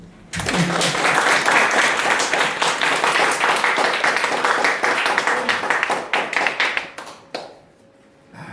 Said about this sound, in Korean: 이럴 때 박수